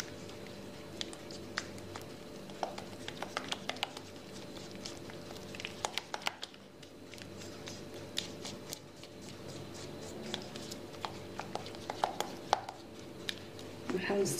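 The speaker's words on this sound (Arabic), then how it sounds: "نحرك بسرعه بهذه الطريقه هذه، نحاول نحركه بسرعه لان الشوكولاط سخون" A fork or whisk quickly stirs warm melted chocolate with egg yolk in a bowl, making a faint, rapid clicking and tapping with occasional sharper knocks, close and quiet, with no talk.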